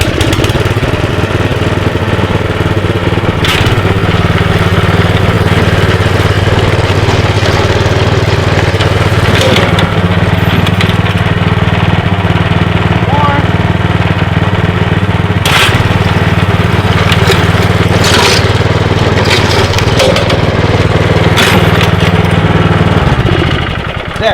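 A gas-engine lawn dethatcher runs steadily and loudly for the whole stretch with a constant low drone, with occasional scraping clatters over it as thatch is pulled from the lawn.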